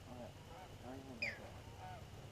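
Ducks and geese honk overhead during a hunt in the field, with faint, distant calls under quiet background noise and one sharper call in the middle.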